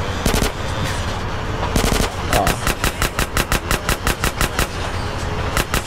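Rapid bursts of automatic gunfire from the video game GTA San Andreas, several short volleys followed by a steady run of evenly spaced loud shots.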